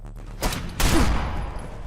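Gunfire from a Fallout 4 sound mod in the video game, two sharp close shots in quick succession, the second louder with a short rumbling tail.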